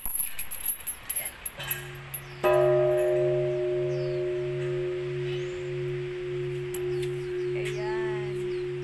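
A large bell on Cow Mountain in Hualien, Taiwan, is struck once and rings out loud and close, its sustained hum slowly fading, after a stretch of rustling movement, with faint voices in the background.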